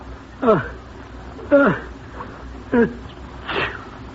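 A man with a cold lets out a few stuffy sneezes or nasal sniffs, spaced about a second apart, in a radio comedy sick-bed scene, close and moderately loud over a quiet room.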